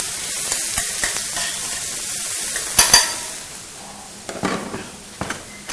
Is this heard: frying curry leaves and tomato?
yes